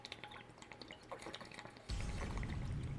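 Water pours from a tap into a container, a steady splashing rush that begins abruptly after a second or two of quiet handling noises and continues close and full.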